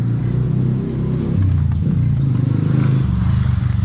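Motorcycle passing along a Penang street, heard from a moving trishaw as a loud, close engine drone with a pulsing low rumble that swells and holds steady.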